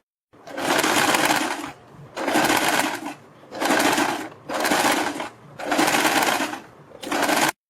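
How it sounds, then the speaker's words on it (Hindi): A sewing machine stitches along a garment neckline beside the buckram of a pleated neck design, running in six steady bursts of rapid stitching separated by short pauses, close and clear with no talking. "और इसके बाद हम बुकरम के बिल्कुल बराबर में पूरे गले के ऊपर सिलाई लगाएंगे।"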